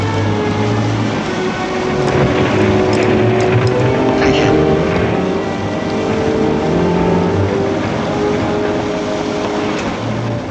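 A steady, droning motorboat engine runs continuously at close range, with a low rumble and faint voices mixed under it.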